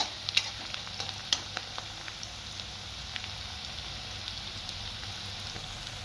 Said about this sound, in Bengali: পেঁয়াজটা আমি একটু এইভাবে লাল লাল করে একটু ভেজে নেব।